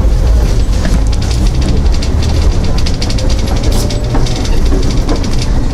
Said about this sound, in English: tram is the cheapest public transportation